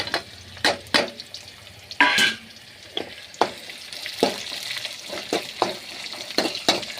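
Onions hit lightly heated oil with mustard seeds for rava upma, making a gentle sizzle under repeated sharp clinks and scrapes of a spoon against the pan, close by and without speech.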